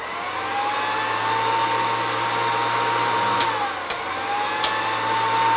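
A Revere Model 85 movie projector runs with a steady whirring mechanical drone and a faint whine that dips and recovers, with a few brief clicks near the end.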